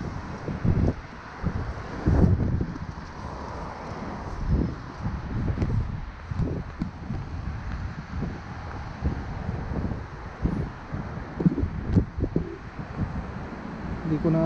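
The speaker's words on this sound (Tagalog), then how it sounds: "mahangin na, malamig." Steady outdoor wind buffets the microphone in an open town setting in Eastern Europe, a broad rumbling roar with gusty swells throughout, with muffled voices faintly beneath it.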